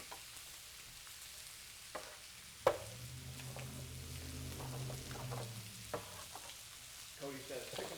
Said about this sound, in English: Cody says chicken sizzle ASMR.